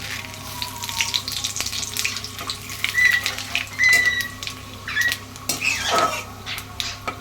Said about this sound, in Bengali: আর তেজপাতা আর জিরে ফোড়ন দিচ্ছি।